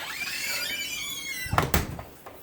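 An old, waterlogged storm door that doesn't latch is swung shut: a creaking scrape followed by two sharp thuds of it closing, up close.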